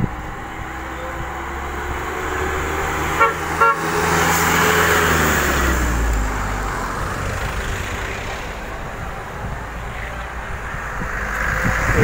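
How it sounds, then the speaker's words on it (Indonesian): A bus from Central Java pulls up behind during a holiday return trip for boarding students heading to a school in East Java, its engine rumbling close by and a short double horn toot sounding, then traffic noise carrying on. "Oke, bis yang ketiga sudah datang di belakang."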